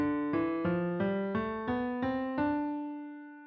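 A D Dorian scale climbs in seven evenly spaced notes with a minor, modal color, the last note ringing out and fading; clean, close, no voices.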